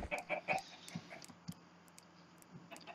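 A Minecraft chicken gives a few quick clucks up close at the start, then quieter scattered clicks and ticks of game sounds fill the rest.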